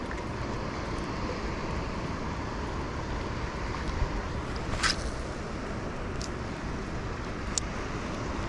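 Waves breaking on a sandbank at an estuary make a steady, broad wash with a few brief hissy bursts and possible wind buffeting. No voices are present.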